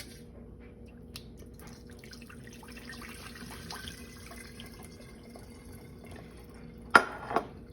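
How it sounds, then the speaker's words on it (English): Cooked tapioca boba is strained from a saucepan, with a quiet stretch of faint drips ending in a brief, close splash of water pouring out near the end. "take your saucepan and strain the boba"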